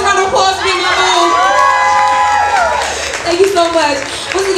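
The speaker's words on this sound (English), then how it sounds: "Everybody give Chris a round of applause for me" A live show audience cheers, whoops and claps loudly for a performer, with shouting voices rising over steady applause and a voice speaking briefly through it.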